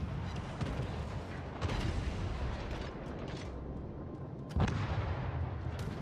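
Naval gunfire from a warship battle in World of Warships, with heavy booming salvos and rumbling explosions that keep coming, loud and dense throughout, with a sharp blast near the end.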